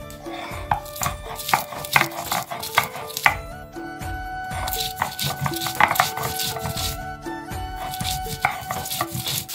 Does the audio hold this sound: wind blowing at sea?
no